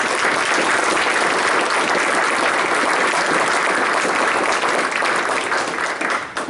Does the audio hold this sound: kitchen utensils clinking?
no